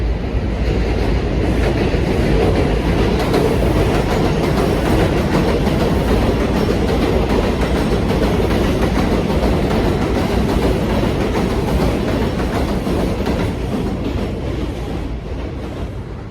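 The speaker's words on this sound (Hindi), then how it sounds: "ये ऊपर से ट्रेन गुजर रही है।" A train passes overhead on an elevated track in Queens, New York, with a loud, continuous roar and rattling wheel clatter that hold steady throughout and fade slightly at the end.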